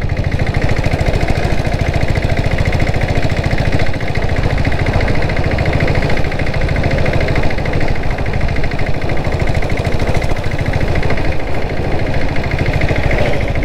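A turbocharged Royal Enfield Bullet motorcycle fitted with a 7.5 HP diesel engine runs nearby with a steady, rough, throbbing chug that keeps an even rhythm and never stops, with no talk over it.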